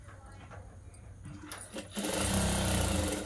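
A sewing machine starts up midway and stitches a blouse neckline in a fast, steady close-up whir, following a quieter stretch of handling sounds.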